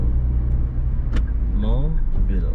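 Car traffic on a street in Batam city rumbles past at moderate distance, a steady engine and tyre drone beneath someone speaking nearby.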